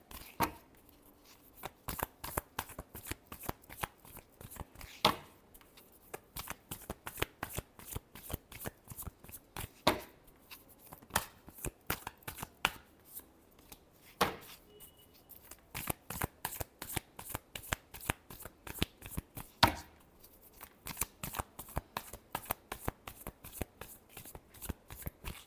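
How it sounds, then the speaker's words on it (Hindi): Tarot cards shuffled repeatedly by hand in long runs of quick crisp riffling flutters, with brief pauses between bursts, close and fairly quiet, with no talking. "Last shuffle."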